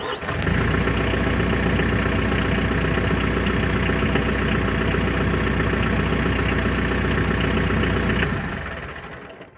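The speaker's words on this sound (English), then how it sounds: "then you're okay to start the tractor" A TYM 474 diesel tractor engine cranks and catches, then runs at a steady, loud, rumbling idle for about eight seconds before cutting off near the end.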